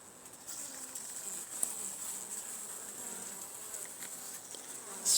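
Honeybees hum steadily inside a small colony hive during an oxalic acid dribble treatment, a continuous faint buzz with a few brief louder passes near the end and no talking.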